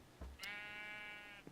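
A single sustained bleat from a sheep in the Minecraft Better Than Wolves mod, clear and close, holding steady for about a second after a brief thump, with no talk.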